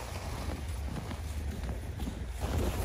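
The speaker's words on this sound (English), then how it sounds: "Well, the wind is really dying out here." Steady light wind buffets the microphone outdoors at a kite festival with giant kites aloft, a continuous broadband rush with low rumble and no talking.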